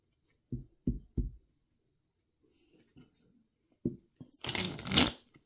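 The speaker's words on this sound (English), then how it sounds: "So I shuffle over here so the mic doesn't pick it up too much." A deck of cards is shuffled close by: a few soft taps and clacks, then a loud, dense riffling burst lasting about a second near the end, with no talking.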